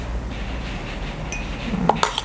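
A matcha mixture of about two ounces of water and two spoons of matcha is whisked in a cup, giving a soft, steady scraping close by that ends with a few light clinks.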